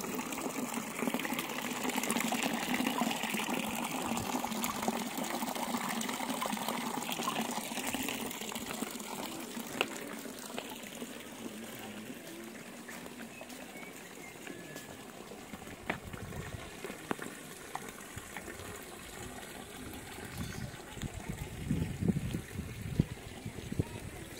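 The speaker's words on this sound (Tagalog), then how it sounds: "Yung tubig po na umaagos." Water flows steadily at a farm campsite in Wawa, Montalban, Rizal, a continuous close rushing gush with some louder splashes toward the end.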